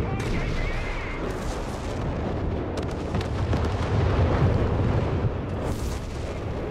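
Howitzer artillery fire in the wartime strategy game Company of Heroes 3, a dense rumble of booming shots and explosions under continuous commentary.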